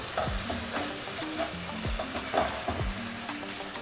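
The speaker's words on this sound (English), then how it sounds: "I'm going to fry it" Gizdodo sauce with bell pepper frying in a pan, a steady bright sizzle broken by a few quick scraping stirs of a spoon, close and prominent.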